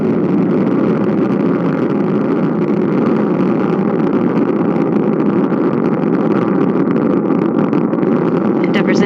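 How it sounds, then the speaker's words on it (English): Space Shuttle Endeavour's engines roar during the STS-127 launch ascent as a dense, continuous rumble that stays loud and even throughout, with a commentator talking over it. "Endeavour's engines were throttling down as the orbiter passes through the area of maximum pressure on the vehicle"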